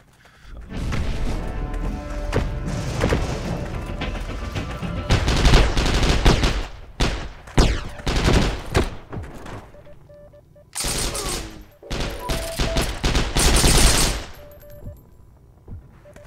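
Gunfire from the online shooter Heroes & Generals, with bursts of automatic weapon fire and scattered single shots, close and loud, in clustered volleys separated by brief lulls.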